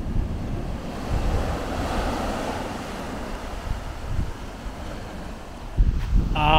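Ocean surf washing steadily beside red cliffs on the Western Australian coast near Broome, a continuous broad wash of breaking waves with wind buffeting, growing louder near the end.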